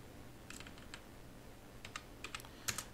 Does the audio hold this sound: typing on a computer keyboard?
yes